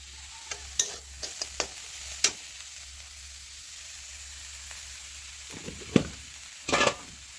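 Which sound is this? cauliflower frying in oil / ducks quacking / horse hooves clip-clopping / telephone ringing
cauliflower frying in oil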